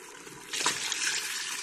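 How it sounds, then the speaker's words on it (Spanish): Water poured into a pot of shrimp mole after the chile has cooked, a steady close splashing trickle that starts partway through and keeps running. "Ya le estoy agregando el agua porque ya se coció el chile."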